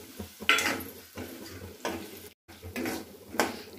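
Green chillies and curry leaves hitting a hot pan for sabudana khichdi, bursts of crackling sizzle with stirring clinks of a utensil against the pan, close and moderately loud in short repeated pulses.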